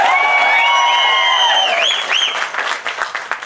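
An audience at a film trailer launch bursts into loud applause, with shrill rising and falling whistles over the clapping at first, then the clapping thins into scattered, fading claps.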